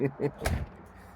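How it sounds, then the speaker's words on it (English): A door is pushed shut with a short heavy thud after a couple of softer knocks, close by and brief. "That door's horrible to close."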